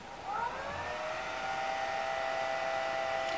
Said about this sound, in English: this one is what I really call a silent hair dryer